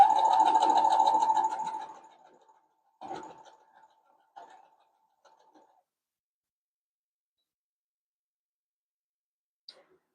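A sewing machine stitches through two layers of folded fabric, whirring steadily for about two seconds, then giving a few short, fainter bursts before falling quiet.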